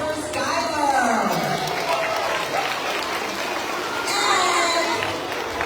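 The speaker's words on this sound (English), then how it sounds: "So a round of applause for Skylar." A school assembly audience applauds for Skylar, a broad wash of steady clapping that swells near the start and again toward the end, with voices talking over it.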